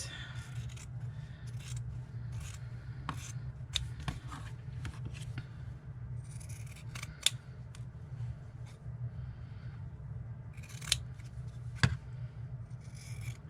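Scissors snip through leftover vintage tea towel fabric up close in a quiet room, with a run of irregular cuts mixed with fabric rustling and rubbing.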